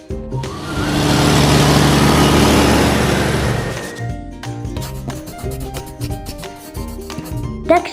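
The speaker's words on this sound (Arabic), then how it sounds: "شاحنة،" A freight truck engine roars with a loud, broad, steady rumble for several seconds, then cuts off, leaving a light melodic background; no voices.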